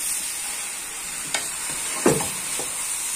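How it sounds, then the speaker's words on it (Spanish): A spoon stirs beef and squash stew in a pot, with a soft steady simmering hiss and a few brief scraping strokes against the pot, heard close and fairly quiet. "Vamos a revolver todo."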